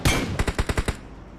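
Automatic gunfire from the mobile battle royale game BGMI: a rapid burst of about six sharp shots in quick, even succession, loud and close, with no voices over them.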